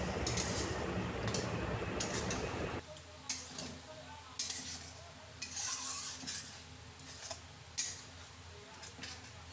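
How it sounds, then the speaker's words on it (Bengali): A spice masala mixed with sour yogurt is stirred in a pan for katla kalia, loud frying noise cutting off early, then quieter scattered spatula scrapes and taps against the pan. "এবার আমি সমস্ত উপকরণগুলোকে একসাথে ভালোভাবে মিশিয়ে নেব, নিয়ে আরও 3-4 মিনিট মতন কষিয়ে নেব"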